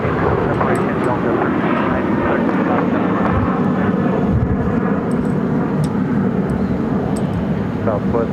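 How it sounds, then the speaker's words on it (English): Delta airliner taking off from a runway at Phoenix Sky Harbor airport, a steady broad engine roar that holds loud and constant throughout, with faint radio voices behind it. "Runway 7 left, clear for takeoff."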